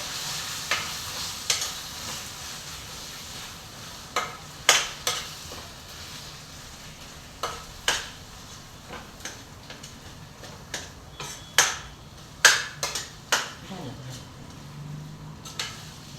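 Eggplant stir-fried for bharit gives a faint background sizzle broken by sharp, irregular taps and scrapes of a spatula against the pan, close by and fairly quiet.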